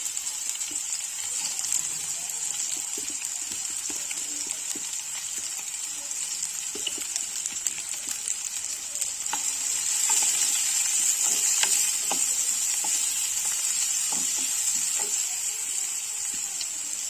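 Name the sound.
chopped carrots added to stir-fry for veg chowmein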